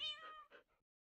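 A cat meows in a barn entrance, two or three short close meows in quick succession, the last one fainter, with no talking.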